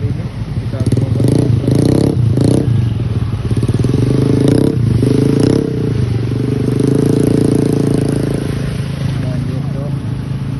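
A Honda Beat Street scooter pushes through deep flood water in Makassar, its engine droning loudly under splashing, scraping and clattering, while a voice talks over it throughout.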